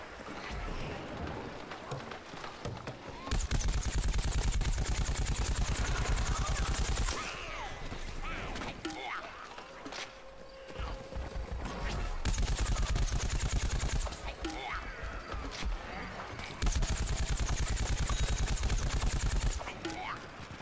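Gunfire in the Plants vs Zombies shooter game, loud repeated bursts of shots across a busy battlefield mix, with a voice talking over parts of it.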